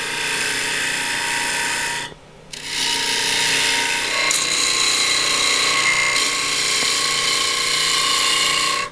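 Wood being roughed out on a lathe for a platter, a loud steady scraping rasp of the cutting tool against the spinning blank, briefly dropping away once before resuming.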